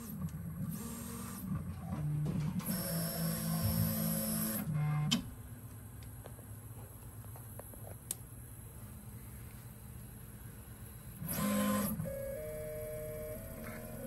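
A 3D printer runs on a squishy vibration-damping mount, its stepper motors giving off shifting whining tones and hums in bursts as the head moves, with short pauses and sudden loud passages, alone and close.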